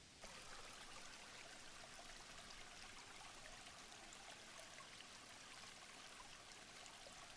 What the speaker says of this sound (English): I know a secret waterfall nearby.